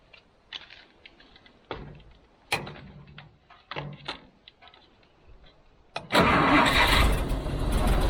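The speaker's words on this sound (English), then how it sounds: "that's the startup sequence for my 1958 FC17" A 1958 Jeep FC-170 engine has its starter jumped, with several short cranking bursts and pauses before it catches and bursts into a loud, steady, roaring run up close.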